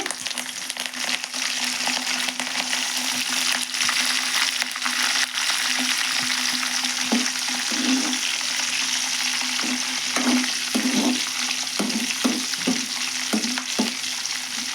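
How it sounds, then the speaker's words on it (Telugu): Curry leaves dropped into a sizzling tempering of oil with dried red chillies and seasoning spices, a constant hiss with bursts of crackling spatter and stirring scrapes, no talk. "ఒక రెండు రేమలు అయితే కరివేపాకు వేసాను"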